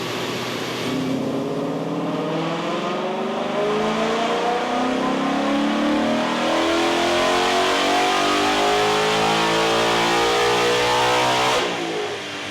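A 2019 Ford Mustang GT with a road race/track day tune roars through a dyno pull, its engine note climbing steadily and loudly for the whole stretch before cutting off near the end.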